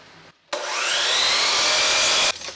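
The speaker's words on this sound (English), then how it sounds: "I'm going to cut my first miter on the miter saw" A miter saw cuts a miter through wood for an 8x10 picture frame built from an old table, giving one loud, steady whining cut of about two seconds with a sharp start and stop and no talk.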